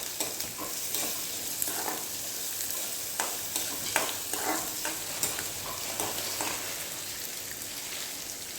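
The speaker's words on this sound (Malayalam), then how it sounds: "നമുക്ക് സവാള, ഇഞ്ചി ആദ്യം ഇട്ട് കൊടുക്കാം" Onion and ginger sizzle and crackle in hot oil in a pan, a steady hiss broken by repeated stirring scrapes, close and fairly quiet, with no talk.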